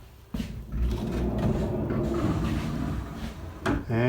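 A sliding barn door rolls along its track with a steady rumble, then knocks against its bumper as it reaches the fully closed position, heard close and alone.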